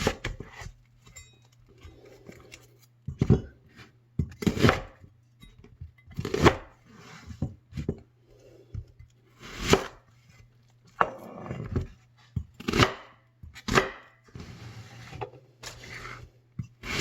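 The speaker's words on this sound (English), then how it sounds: "So I'm cutting up 1 onion per 1 pound." Onions being chopped with a knife for canning Hoppin' John, a series of sharp, close cutting knocks on a board in irregular bursts over a steady low hum.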